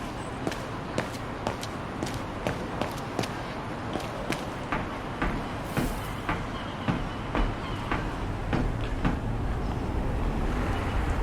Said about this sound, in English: Let's take the tram back to the guest house.